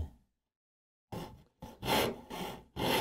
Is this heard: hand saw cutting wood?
yes